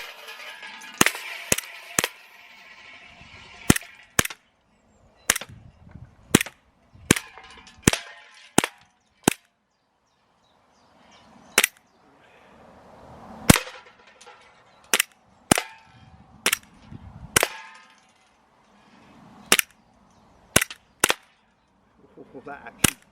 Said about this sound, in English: let's see if I can hit any of these suckers.